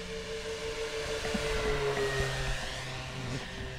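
A BlitzRCWorks V-22 Osprey RC model at full throttle gives a steady, moderately distant motor whine with harmonic tones that rise slightly as it passes, no voices.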